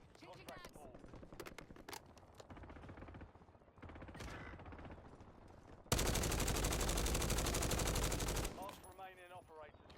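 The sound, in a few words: gunfire from a first-person shooter video game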